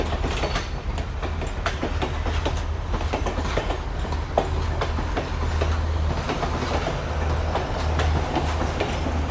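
A crowded commuter train runs in Colombo, Sri Lanka: continuous close rumble with rhythmic clickety-clack of wheels over rail joints and rattling carriages, no talk heard.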